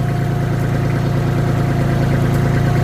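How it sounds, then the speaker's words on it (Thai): A Kubota L3408 tractor's diesel engine idles steadily at 1000 rpm, a deep continuous rumble with a regular chugging pulse and no change in speed throughout. "ไม่ต้องไม่ได้เร่งเครื่องนะครับ รอบอยู่ที่หนึ่งพันรอบนะครับ"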